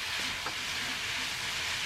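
Double pepper chicken lo mein is stir-fried in a wok, making a steady close sizzling hiss that runs through the whole short stretch.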